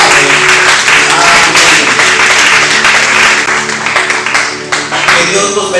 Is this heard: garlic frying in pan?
no